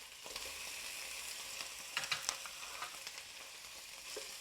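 Two cans of drained sardines fry in a preheated pan with a steady, soft sizzle, broken by a few brief pops and spatters near the middle, and no voices.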